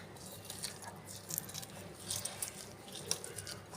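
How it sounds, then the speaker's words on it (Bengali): Onion, chilli and salt mashed by hand for raw mango chutney, giving soft, quiet squishing and crushing sounds that repeat close by with no talk. "এগুলো একটু হাতের সাহায্যে আমি ম্যাশ করে নিই আগে দিয়ে।"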